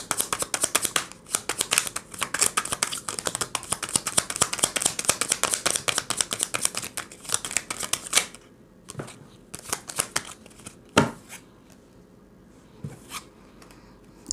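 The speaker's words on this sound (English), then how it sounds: "I'll shuffle the cards, clarifiers, lay them out for the first lot" Tarot cards shuffled by hand in a long dense run of fast crisp riffling for about eight seconds, then a few separate taps and slaps as the cards settle, close and fairly loud with no talking.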